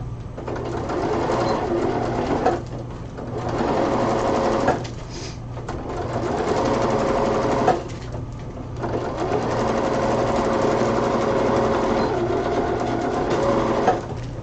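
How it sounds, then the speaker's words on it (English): A sewing machine tacks down the shoulder seams of a cosplay costume in long, loud, close runs of rapid stitching, with short pauses between them and no talking over it. "I am going to go ahead and tack the shoulders down as well"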